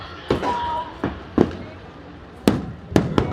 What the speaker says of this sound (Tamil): விண்ணை முட்டும் வெடிக்காட்சிகள் எல்லாம் இரவை பகலாக்கக்கூடிய காட்சிகளாக நம்ம பார்த்துருக்கிறோம்